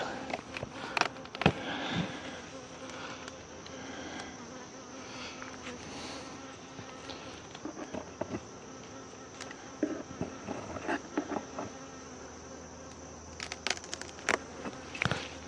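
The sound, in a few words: bee buzzing near the ear at a beehive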